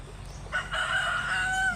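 A rooster crows loudly and close by, one long drawn-out call lasting over a second, alongside other chickens, with no talking.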